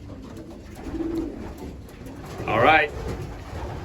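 Racing pigeons, both cocks, coo in a loft with low murmuring behind, and one clearer, louder call rises near the end while someone speaks briefly.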